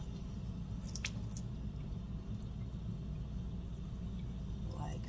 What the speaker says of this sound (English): I am just swirling it around in my hand